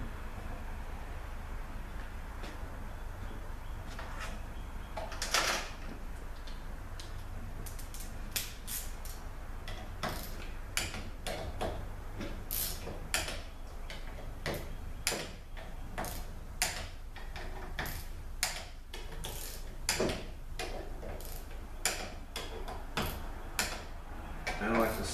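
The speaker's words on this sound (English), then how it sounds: "Torque wrench here. I'm going to torque these down about 85 inch pounds." A torque wrench tightens the valve body bolts on a ZF 5HP19 automatic transmission to about 85 inch-pounds, giving a long series of sharp, close metallic clicks and ticks at uneven intervals over a steady low background hum.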